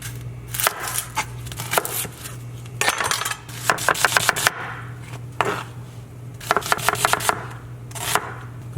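A knife chops onion on a cutting board in a home kitchen, in quick bursts of rapid, crisp strikes separated by short pauses, close and clear over a low steady hum.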